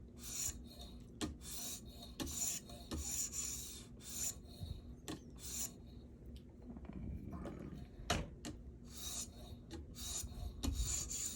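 A cheap Ozark Trail knife is drawn across a sharpening stone in a series of close, gritty rasping strokes, each one a short scrape with brief pauses between, in an otherwise quiet space.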